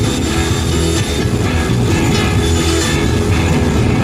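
Jet dragster engines at a nighttime drag strip throw out burner pops, a loud continuous roaring blast of jet thrust that fills the whole stretch, close and overpowering with no voices.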